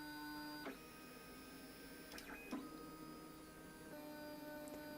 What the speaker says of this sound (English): the printer's now doing its auto nozzle cleaning on that little felt pad